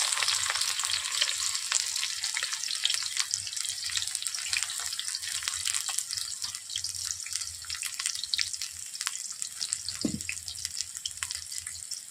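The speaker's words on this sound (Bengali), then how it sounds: "আমি পেঁয়াজ কুচো দিয়ে দিচ্ছি" Chopped onion sizzles in hot oil in a wok for a Bengali rui fish curry, a steady, close hiss of frying with faint scrapes of stirring and no talk.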